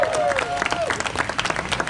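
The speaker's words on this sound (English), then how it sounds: "Let's give a round of applause for the bridesmaids." Guests at a wedding reception clap in a short burst of scattered applause, with a voice briefly audible at the start over the clapping.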